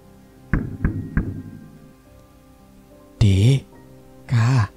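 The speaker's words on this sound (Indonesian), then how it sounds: "Ada suara ketukan cepat, arahnya dari jendela kamar." Three quick sharp knocks on a bedroom window, close and distinct, followed by two longer bursts of voiced sound, as in a horror story scene.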